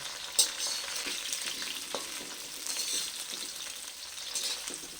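Cauliflower fries in oil in a large wok, a steady hiss and crackle of sizzling with occasional stirring clinks, moderately close and without speech.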